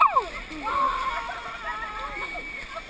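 Water splashes and churns around a kayak, with an opening burst of splatter and then a continuous rushing wash. People shout over the water throughout.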